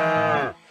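A single, fairly loud cow moo with a smooth tone rises and then fades within a second, part of a children's nursery song about Old MacDonald's farm.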